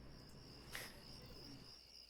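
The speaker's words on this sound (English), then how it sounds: "Those crickets are super loud, by the way, as well." Loud, steady cricket chirping from the video game Yakuza 4 Remastered, a constant high-pitched insect drone running through the whole stretch with a brief brighter burst near the start.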